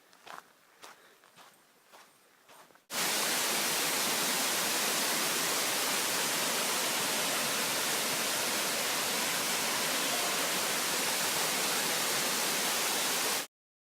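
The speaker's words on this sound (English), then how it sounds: "I can hear the falls in the distance" A few footsteps crunch on a trail, then a loud, constant rushing roar of Ramona Falls takes over and holds steady before cutting off abruptly.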